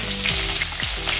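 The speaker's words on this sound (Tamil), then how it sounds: "இப்போ நம்ம ரசத்தை தாளிச்சுக்கலாம்" Mustard seeds, dried red chillies, urad dal and fenugreek sizzle in hot oil for a rasam tempering, a steady close crackling hiss with stirring underneath and no voices.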